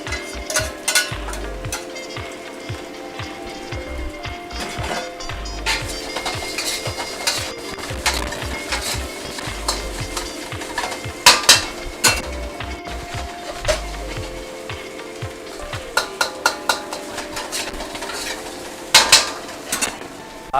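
Bacon bits go back into fried rice sizzling in a pan, with a steady close sizzle under repeated scraping and clinking stirs of a utensil against the pan, louder toward the end, and no talking.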